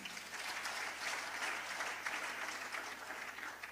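A church congregation applauds during a sermon, a dense and sustained clapping that keeps an even, lively intensity from start to finish with no pauses.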